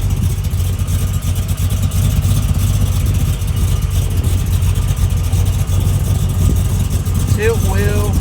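A 1967 Chevrolet Camaro RS SS engine idles with a steady, loud, close low rumble, and a brief voice comes in near the end.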